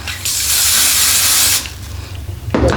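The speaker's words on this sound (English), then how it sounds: "a little spray, and then slightly smooth it." Hairspray from an aerosol can hisses in one steady, close burst lasting over a second while hair is styled with a BaBylissPRO flat iron, followed by quieter handling noises.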